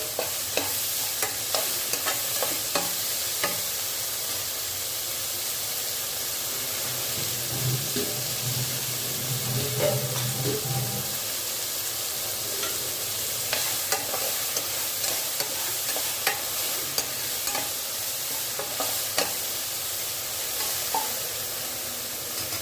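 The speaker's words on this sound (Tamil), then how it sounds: "நல்லா வெண்டைக்காய் நல்லா பிரிஞ்சு வரைக்குங்க" Okra sautés for a quick Gujarati-style curry in a pan, with a constant close sizzle and frequent clicks and scrapes of a spoon stirring. A brief low rumble sounds in the middle.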